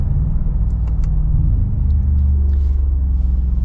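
A Mercedes G63 V8 in Sport Plus mode accelerates with a loud, deep rumble heard from inside the cabin, with a pitch shift partway through as a gear changes.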